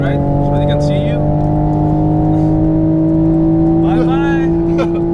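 A Toyota Supra at full throttle, its engine droning loudly and steadily up close from inside the cabin, with brief voices from the occupants over the engine.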